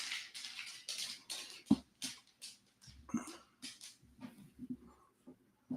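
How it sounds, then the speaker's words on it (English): A small, old dog makes a string of brief whimpers and snuffles, close and fairly loud, coming in uneven bursts with short pauses between them. "That's my little puppy."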